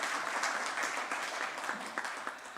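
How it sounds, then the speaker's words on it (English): Applause from an audience at a district awards ceremony for grade 12 learners, a steady mass of clapping heard at moderate distance and fairly soft, holding evenly for a couple of seconds without speech. "Can we please give them a very quick round of applause?"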